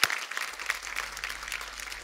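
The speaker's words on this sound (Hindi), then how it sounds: "तारे इतनी ताली बजाने की क्या जरूरत है?" Applause from a studio audience on a comedy talk show, a dense wash of clapping that runs steadily for about two seconds at moderate loudness with no voices on top.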